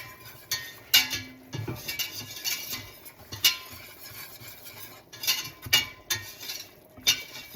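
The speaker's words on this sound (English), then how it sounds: "measure out the butter and the flour. I'm just using all-purpose flour as well. All right, whisk that together" A whisk works butter and all-purpose flour into a paste in a pan, giving quiet uneven metallic clinks and scraping strokes with soft irregular taps and no voices.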